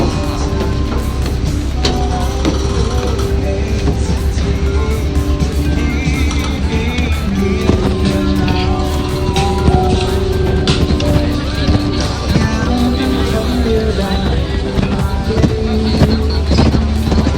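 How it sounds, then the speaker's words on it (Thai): Tour boat engine droning loud and steady throughout on a cruise off Nu Island, Songkhla, with wind buffeting the microphone and people talking over the constant rumble. "เครื่องยนต์"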